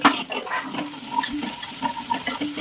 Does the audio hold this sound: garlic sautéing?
yes